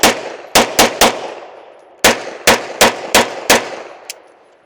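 Nine loud handgun shots from a Bul Armory 2011 pistol firing 147-grain rounds, an opening group of four quick shots, a pause, then five more evenly spaced reports, each with a short echoing decay, followed by a faint metallic clink.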